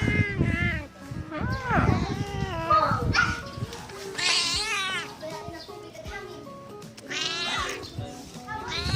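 A cat meows repeatedly, several drawn-out, wavering cries close by, with pauses between them and a person speaking at times.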